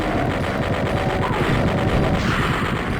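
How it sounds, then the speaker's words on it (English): Rapid, continuous automatic fire from the chain gun replacement in Equinox, a Doom mod, with dense evenly spaced shots hammering out loud and close for the whole stretch. "The one thing I unabashedly love about Equinox is its chain gun replacement."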